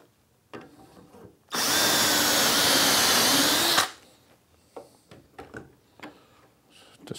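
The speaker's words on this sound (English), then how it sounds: "Tighten the Dowelmax clamp screws and drill the same sequence of holes." A power drill bores dowel holes in a wooden workpiece through a clamped Dowelmax doweling jig, one steady loud whine lasting about two seconds, framed by quieter clicks and handling taps before and after.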